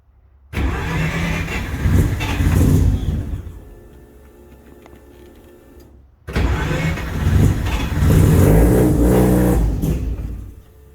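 A 12A turbo rotary engine in a Datsun 1200 cranks and fires, settles to a rough idle, then catches again and revs hard and loud for several seconds, close by with no talking.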